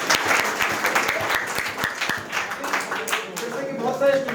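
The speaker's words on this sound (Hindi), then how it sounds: "मैं चाहूंगा एक बार आप लोग अपने लिए तालियां बजाएं।" A seated audience of students applauding in a classroom or seminar hall, with dense, steady clapping that carries at full volume throughout and rises slightly near the end.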